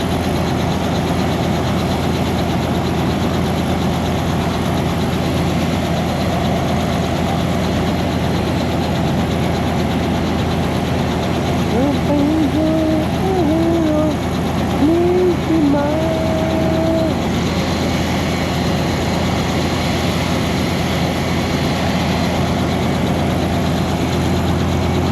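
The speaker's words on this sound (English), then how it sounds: "Let's see that bad boy take off. And that's the biggest helicopter right there." A Paradise Helicopters helicopter runs steadily on the ground before takeoff, a constant loud engine drone that fills the whole clip, with voices talking faintly over it.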